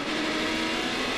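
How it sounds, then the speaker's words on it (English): An ARCA race car at Daytona in 2000 revs hard in neutral, a loud, dense, sustained engine roar in a brief burst. "he got the car in neutral and revved it up"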